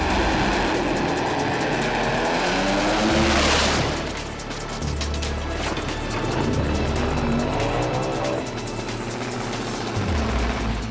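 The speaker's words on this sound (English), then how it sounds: "monstrous crash" Top fuel drag racing car crash at Willowbank: a loud, sustained engine roar with a sharp burst of impact noise around the midpoint, tires squealing and skidding, then a continued rumbling roar to the end.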